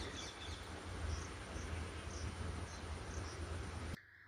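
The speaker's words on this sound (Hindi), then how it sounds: "आप लोगों ने सुना भी होगा चिड़िया के चहचहाने की आवाज़" Faint, sparse bird chirps sound in the distance over a steady low hum in a quiet early-morning setting, then cut off abruptly.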